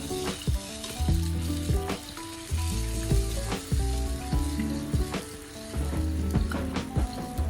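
A sauce for Vietnamese-style chicken wings, made with water and MSG, sizzles and caramelizes in a pan with steady frying crackle, while a tonal musical backing plays throughout.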